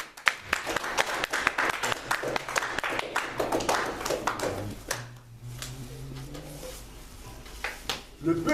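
A church congregation applauds in a dense burst of close clapping that thins out after a few seconds, with cheering voices and a lingering sustained vocal tone beneath.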